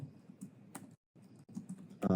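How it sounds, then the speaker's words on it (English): A computer keyboard being typed on in short runs of clicks, broken by a brief silent gap midway and ending in a louder burst. "So we're going to type in make all"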